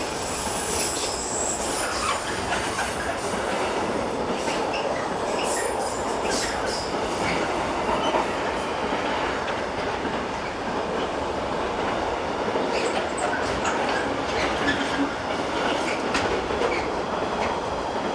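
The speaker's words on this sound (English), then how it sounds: "Right behind were 11346 and 620082 on another northbound working from Novara." Two locomotives, 11346 and 620082, haul a northbound train from Novara past at close range, a loud continuous rumble with rhythmic wheel clatter and intermittent squeals throughout, no talk.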